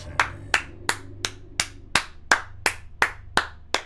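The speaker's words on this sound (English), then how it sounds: "I'm just going to keep applauding" Hand clapping, eleven sharp, evenly spaced claps at a steady slow pace, close and clear with no talking.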